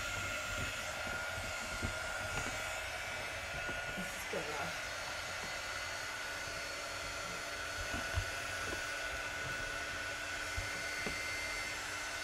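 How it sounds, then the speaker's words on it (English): Steady whirring blast of a handheld quick-dry heat tool blowing air over a chalk craft home decor piece, continuous and close for the whole stretch with faint talk now and then. "So I'm just giving this a quick dry with my quick dry tool."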